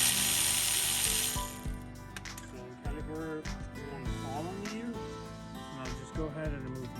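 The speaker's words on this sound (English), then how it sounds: "now go ahead and remove this one and this one too, 14mm bolts" A hand ratchet works loose 14mm caliper bolts on a 2012 Nissan Sentra's front brakes, giving short bursts of clicking and metallic knocks close by while someone talks over it.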